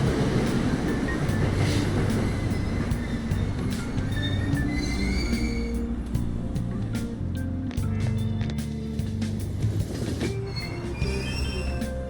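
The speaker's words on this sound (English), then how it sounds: "Train doors are now closing." A train pulls out of a station in the video game Persona 5 Royal, with loud, steady rail rumble and shrill wheel squeals running throughout.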